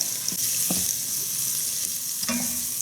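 Onions frying in a pan for homemade meatball sauce, a steady close sizzle with a few scraping stirs of a utensil against the pan.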